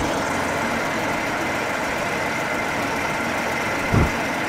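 A Chevrolet Corvair engine runs on a test stand with a loud, steady, unbroken roar, heard up close, with one brief low thump near the end and no voices.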